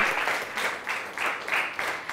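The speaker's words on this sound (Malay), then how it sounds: "Kita beri tepukan" Students in a classroom clap together for a classmate, a short burst of rhythmic, pulsing claps in roughly even beats.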